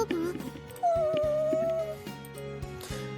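A puppy whimpers and whines in high, wavering cries, close and clear, with a longer drawn-out whine in the middle and some background sounds.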